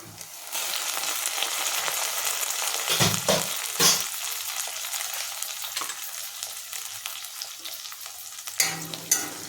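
Onions frying in a pan for a prawn and okra stew, a continuous close sizzle with occasional louder crackles and spoon scrapes while the onions are stirred, no voices.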